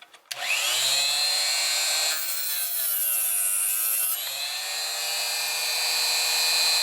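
A homemade arrow cutting machine saws through a thick piece of clamped wood, its blade starting with a jolt and then droning at a high, steady whine that dips in pitch under load before recovering.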